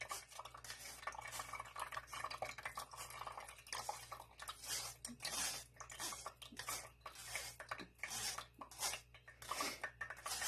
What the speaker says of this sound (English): You can hear the juice falling through.